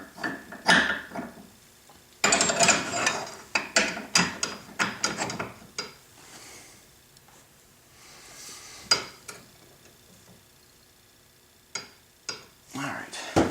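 A hand ratchet tightens a tie rod on a Saturn S-Series car, with repeated sharp clicking strokes in uneven bursts close to the microphone and quiet pauses between them.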